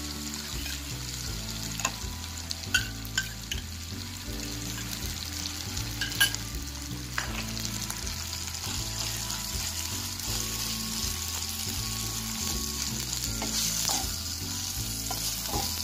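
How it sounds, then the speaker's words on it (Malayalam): Cooked chicken filling fries and is stirred in a pan, a steady sizzle with scraping stirs, heard close over a low background beat of music. "നമ്മുടെ ചിക്കൻ നന്നായി വെന്ത് ഡ്രൈ ആയിട്ടുണ്ട്."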